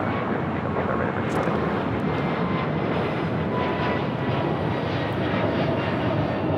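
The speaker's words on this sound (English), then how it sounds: "Here we have a Delta A380 300 taking off to San Antonio." A Delta airliner taking off from LAX, bound for San Antonio, gives a steady, loud broadband jet roar that holds throughout without a break.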